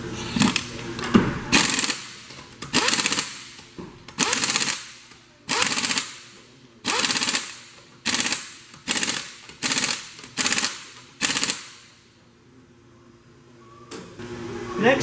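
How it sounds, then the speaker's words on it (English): Vehicle wheel lug nuts are driven with a rattling impact-style tool in a series of about a dozen loud, short bursts separated by brief pauses, close up in a service bay. "Torquing the wheel ensures that the wheel will stay on the vehicle by going down the road."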